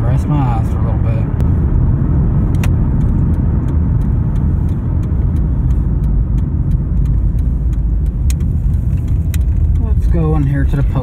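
Car driving on a road toward home from 411 Motor Speedway in Tennessee, a loud steady low engine and road rumble that continues without break, with faint talk near the end.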